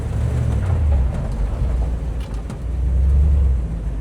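A 1957 Chevy Bel Air with its 283 V8 pulls away in first gear, a steady low engine rumble heard from inside the car, rising slightly toward the end with no talk over it.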